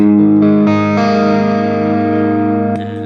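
Sustained electric guitar chords ringing out through effects, with a shimmering, slightly modulated clean tone that holds and then fades into a softer strum.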